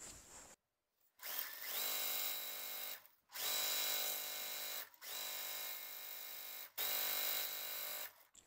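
A sewing machine stitches a quilt piece in four sustained motor runs of about two seconds each, separated by short silent pauses, loud and close.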